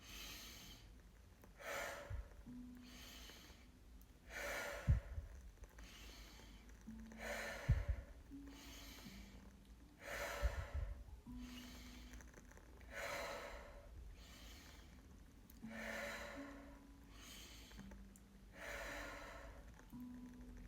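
Deep, rhythmic breathing during a healing energy exercise: about a dozen long airy breaths evenly spaced, each a broad whooshing inhale or exhale, close and fairly quiet, with a low drum-like hum underneath and no talking.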